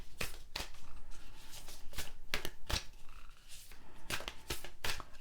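Tarot cards being shuffled by hand in repeated crisp riffling bursts, close and fairly loud, with no voices over them.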